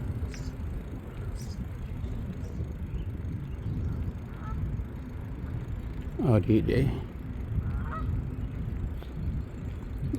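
Wild geese honking in a short burst near the middle, heard outdoors on a college campus near a bridge with traffic, over steady low background rumble and a person talking.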